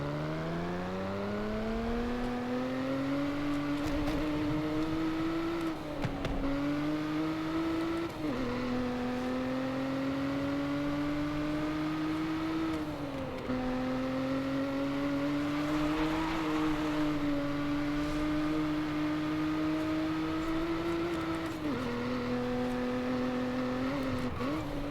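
Nissan Z NISMO engine in the Forza racing game, a steady droning exhaust note held for about 25 seconds, pitch climbing through each gear and dipping sharply at several upshifts, loud and continuous with no talk.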